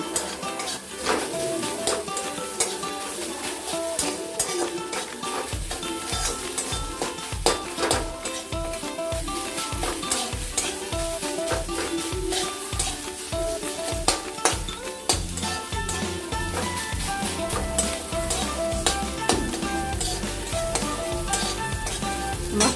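Spiced meat sautéed and stirred in a pan while cooking a kochu shak recipe with ground lentil paste, with a steady sizzle and repeated scraping strokes of a spoon against the metal pan.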